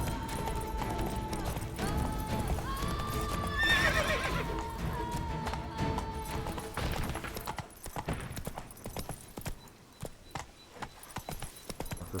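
Roach the horse in The Witcher 3 galloping with rapid, steady hoofbeats and a neigh partway through, the hooves carrying on throughout at a moderate, fairly close level.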